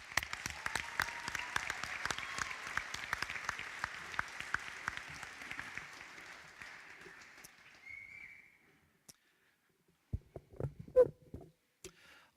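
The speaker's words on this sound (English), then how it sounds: "Let's have one more round of applause for the graduates." Audience applause for graduates of a police recruit class at an evening graduation ceremony: dense, steady clapping for about seven seconds that thins and fades, followed by scattered shuffling and a few sharp knocks.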